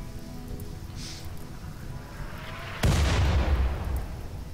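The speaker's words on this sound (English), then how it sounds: "They will actually start firing mortars at my way soon as well." Mortar fire in RimWorld: one heavy, booming impact arrives abruptly over a steady hiss of background ambience, with its low rumble lingering and slowly fading.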